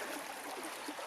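A small woodland brook in the Adirondack wilderness burbles and trickles steadily nearby, a soft continuous flowing sound with no voices.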